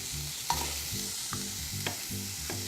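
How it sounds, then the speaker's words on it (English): Diced apples cooking in a pan for compote, with a steady sizzle and bubbling and a few rhythmic utensil stirs against the pan. "Now that we have our apples cooking,"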